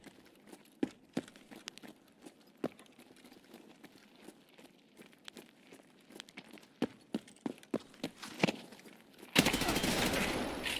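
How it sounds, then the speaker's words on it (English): Suppressed small-caliber full-auto gunfire in a video game gives off faint, scattered sharp pops and clustered cracks at a distance, then ends in a sudden loud rush of noise. "Small caliber suppressed full auto."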